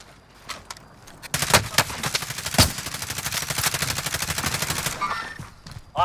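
Gunfire in the video game Call of Duty: Modern Warfare, rapid automatic bursts of shots in a dense, fast rhythm, loud and close, with a few scattered single shots before and after.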